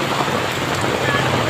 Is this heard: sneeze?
no